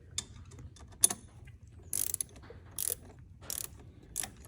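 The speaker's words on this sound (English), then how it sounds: "we'll show just a little bit of me tightening it" A few short ratcheting clicks come in separate bursts while a part is tightened during installation of a trike steering fix, set against quiet background.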